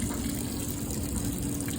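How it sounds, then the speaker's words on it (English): Water gushes steadily into a washing machine as it fills, a dense, constant rush close by and fairly loud with no speech. "Now the water is filling in the machine"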